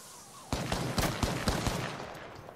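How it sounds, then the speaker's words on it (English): Rapid bursts of video game gunfire in a battle royale fight, about six or seven sharp shots crackling in an uneven rhythm, close and loud, with no talk over them. "Keep shooting at him."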